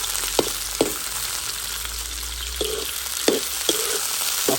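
Fish sautéing in a hot pan, a steady bright sizzle of frying with several short clatters of stirring or utensil taps spaced through it, close and alone with no talk.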